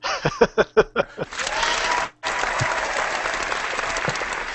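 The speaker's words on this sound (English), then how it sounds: "he was just waiting to hit the applause button" An applause sound effect is triggered from an applause button, preceded by a few quick bursts of voice, then a dense wash of clapping that cuts out briefly and resumes steadily.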